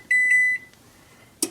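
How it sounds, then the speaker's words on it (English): A kitchen timer beeps three times in quick succession while a Texas sheet cake is being made, then falls silent before a short clunk near the end. "Turn off the timer."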